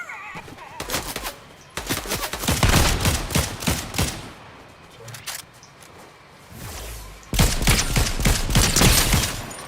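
Gunfire in Fortnite, bursts of rapid shots in loud clusters separated by quieter gaps, with players talking over the action.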